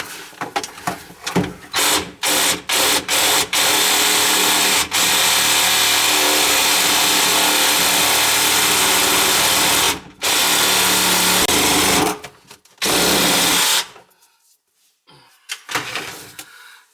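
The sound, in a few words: power tool cutting kitchen sink drain pipe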